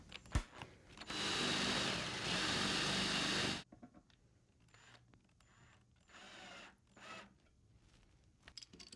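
A power drill driving screws into a contemporary nightstand, one loud sustained whir of a couple of seconds followed by a few shorter, quieter bursts and light handling knocks.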